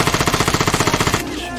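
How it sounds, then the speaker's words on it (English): A rapid, evenly spaced burst of machine-gun fire in the shooter game Vigor, around twenty loud close rounds in quick rhythm, then a short fading tail. "Look at the bullet trail. Look at the burst of fire."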